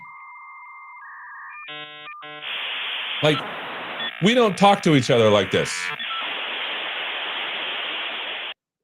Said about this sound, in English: That's a modem for you kids out there.